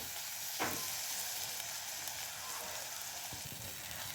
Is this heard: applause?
no